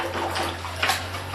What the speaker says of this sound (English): I dip it in water.